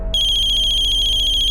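A telephone ringtone rings alone with a steady electronic pulsing warble, loud and close, announcing a ransom call in a kidnapping drama.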